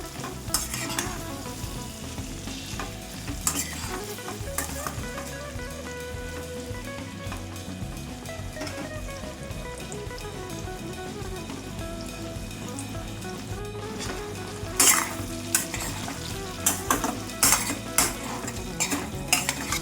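Boiled potatoes frying in oil in a steel pan for a spicy Andhra-style aloo fry, a constant close sizzle broken by scraping and clinking as a spoon stirs the pieces against the pan bottom, with no talking.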